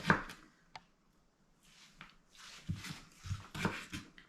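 A ceramic knife cuts raw fish for sushi, giving a few soft, scattered taps and slicing strokes, close but quiet, with gaps between them.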